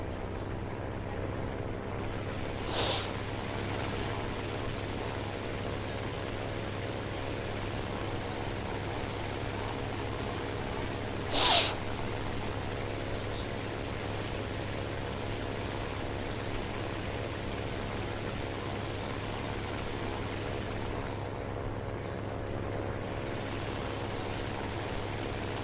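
Jet aircraft engines in the War Thunder video game on PS4, a steady low droning hum held throughout with a couple of brief sharp bursts standing out.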